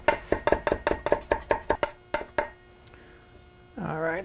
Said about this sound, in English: I'm going to chop this up because this needs to be minced up really fine.